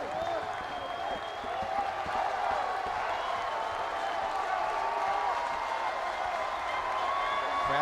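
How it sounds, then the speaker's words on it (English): Broad, sustained applause and crowd noise from a college baseball crowd rising to its feet at Founders Park, South Carolina, steady and fairly distant across the whole stretch, with a commentator's voice faintly underneath. "Crowd to its feet here at Founders Park."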